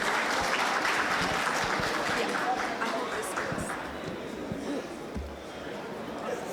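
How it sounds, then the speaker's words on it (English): A lecture audience in Karachi applauds an arriving economics professor, a loud, dense wash of many hands clapping that fades slightly toward the end, with crowd murmur mixed in. "please give Professor Cowen the biggest round of applause"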